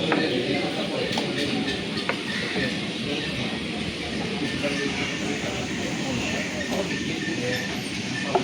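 Busy ambience at Guwahati railway station: a steady, dense rumble of trains and crowd noise with murmured voices blending into the din.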